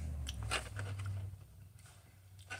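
Chocolate being bitten and crunched during an eating challenge, a few close, crisp crunching bursts over a low steady hum, with no talking.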